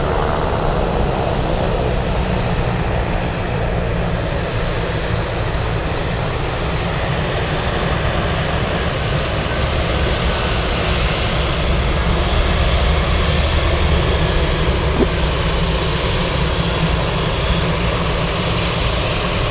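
F-22 fighter jets fly near Anchorage airport, giving a steady, broad engine roar that holds fairly loud and unbroken for the whole stretch, with no talk over it.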